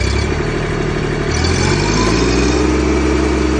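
A Mahindra Max 26XLT tractor's 3-cylinder diesel engine idles close by with a steady, even rumble and no words spoken.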